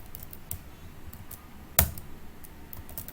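A single sharp Enter key press on a computer keyboard, one loud click near the middle, with a few fainter keystrokes scattered around it in a quiet room.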